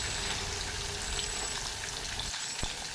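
Fish pieces frying lightly in a steel pan, a soft, even sizzle with a thin crackle that stays quiet and steady, a single small clink near the end.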